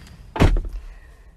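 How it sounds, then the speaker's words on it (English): A car door is pulled shut from inside with a single close, dull thunk followed by a brief settling rattle in a quiet interior. "Let me shut the door."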